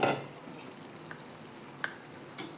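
Ridge gourd curry cooks quietly in an open pan, giving a faint, steady low sizzle with a few soft clinks and stirring touches scattered through it.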